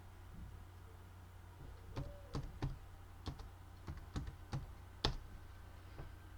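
Keys clack on a computer keyboard as Python code is typed, about a dozen distinct, fairly quiet keystrokes in short irregular clusters over a low steady room hum, with no talking.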